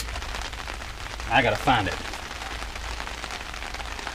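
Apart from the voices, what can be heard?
rain falling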